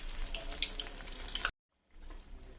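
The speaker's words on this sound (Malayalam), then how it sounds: "തേങ്ങ ഒന്ന് വറുത്തെടുത്തിട്ട് വരാം." Grated coconut roasting in a pan, a busy crackling sizzle with scattered sharp pops that cuts off abruptly, followed after a short silence by a fainter, steady sizzle.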